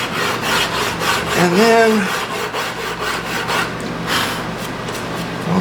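A wooden acoustic guitar neck is carved by hand with steady, close rasping strokes scraping the wood continuously; a voice briefly speaks over the work.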